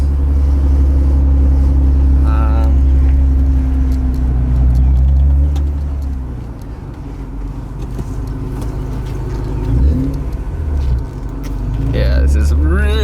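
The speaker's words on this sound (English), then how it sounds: "As you guys can see, car's pretty loud." Supercharged Acura NSX with no power steering driving with a loud, steady engine drone and deep low rumble, swelling and easing throughout, with a person talking over it inside the cabin.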